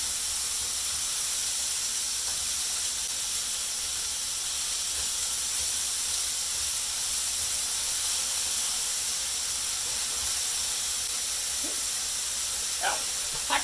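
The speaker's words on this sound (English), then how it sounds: "I'm just going to cook these just a little bit to start like sweating the onion," Onions sizzle in a hot pan, a loud and constant broad hiss that runs the whole time, with a few sharp pops near the end.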